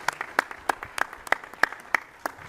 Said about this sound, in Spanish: Te recibimos de forma muy afectuosa con un fuerte aplauso.